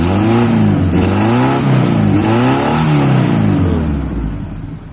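Revving engine of a Honda Civic Wonder, the pitch swooping up and down through several quick blips of the throttle before settling toward idle, close and loud with no talking.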